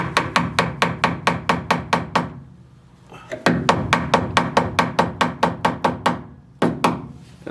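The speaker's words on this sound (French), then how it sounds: "Un marteau mou, hein, parce que faut pas défoncer ce truc là." Soft mallet hammering a Powerflex silent block into a Corsa's suspension: a steady run of sharp, close, evenly spaced blows, a short pause, then another quick series of strikes.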